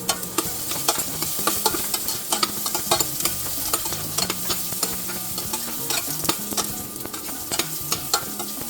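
Onion and garlic, added after ginger, frying in a pan and stirred steadily: a constant sizzle punctuated by frequent rhythmic scrapes and clacks of a spatula, loud and close with no voices.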